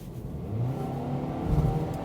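Engine of a 2021 Toyota Corolla Hatchback with a CVT accelerating, a steady mid-pitched drone of moderate loudness that swells slightly toward the end, with no talking.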